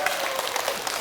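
Brief burst of audience applause at a Buddhist temple lecture gathering in Seoul, a dense steady wash of many hands clapping throughout, fairly loud and close.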